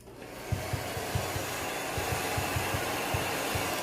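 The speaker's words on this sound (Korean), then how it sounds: "그러면서 드라이기를 사용해서" Hair dryer blowing steadily while hair is being dried and styled for volume, a continuous airy whoosh with faint low thumps underneath and no talking.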